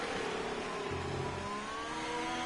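A Ferrari Formula 1 car in a racing video game, Mexico City Grand Prix, passes with a high whining engine note that rises and falls in pitch over a continuous roar, with no voices.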